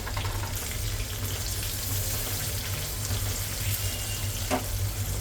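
Long green chilies toast in a hot pan for a Maharashtrian potato bhaji, giving a steady, close sizzle with faint crackle that runs on alone without a break.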